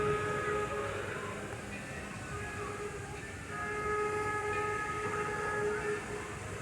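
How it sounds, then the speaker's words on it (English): The Mason Bogie steam locomotive at Greenfield Village: a steady, loud rumble of the train with faint whistle-like tones running through it, continuous and fairly close, no talking. "It's the Mason bogey. The exact locomotive I wanted to see."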